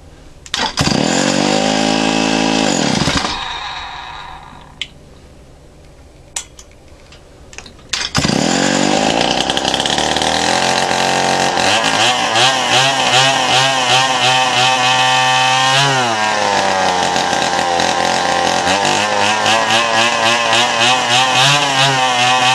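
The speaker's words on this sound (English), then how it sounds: "So what I was actually going to do with this carburetor is test it out, is throw it on this 49cc and see how good it does." A 49cc engine fitted with a new Walbro carburetor, still untuned, revs loudly up close, drops to a quieter idle for a few seconds, then runs hard again with a steady, buzzing roar.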